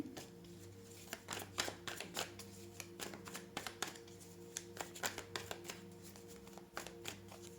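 Tarot cards handled and drawn from a deck during a reading, a run of soft crisp flicks and slides that come in irregular clusters, close and quiet.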